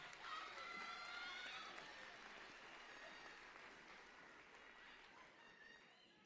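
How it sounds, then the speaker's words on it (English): Faint, distant applause for nursing graduates at a convocation ceremony, a steady wash of clapping that slowly fades, with some voices and crowd murmur mixed in. "Another round of applause for this great group."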